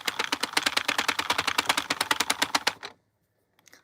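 A knitting machine clicks in a fast, even run of sharp mechanical ticks for nearly three seconds, then stops, leaving near silence with a few faint taps.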